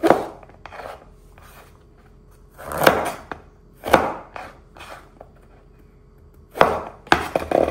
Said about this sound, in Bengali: তো আজকে এভাবে পটলটা এভাবে কেটে নেব।